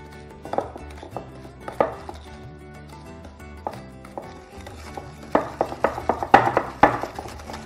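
Butter and sugar being mixed by hand in a bowl as a cake-style batter for a steamed lemon pudding, heard as sharp, irregular knocks and scrapes of the utensil against the bowl, growing faster and louder toward the end, with music underneath.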